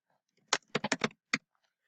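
A short run of sharp, close keystrokes on a computer keyboard, about six irregular taps in quick succession, then silence.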